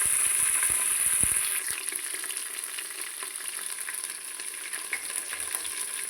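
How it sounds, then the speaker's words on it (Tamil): Onion, green chili, mint and coriander sauté in hot oil for a Tamil chicken kuzhambu, giving a steady close sizzle with a few stirring scrapes early on that settles into a softer, continuous frying hiss. "வெங்காயம், பச்சை மிளகாய், புதினா, கொத்தமல்லி நல்லா வதங்கணும்."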